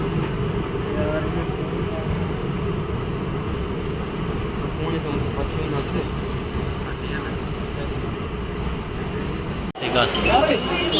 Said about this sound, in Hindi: ये पहुंची ट्रेन सुंबड़ रेलवे स्टेशन के प्लेटफॉर्म पर।